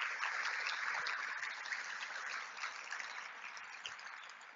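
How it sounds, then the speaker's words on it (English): Steady applause from a keynote event audience, dense clapping that holds for several seconds and tapers slightly toward the end, with no voices over it. "you guys all please give John and his team a massive round of applause, the AV team."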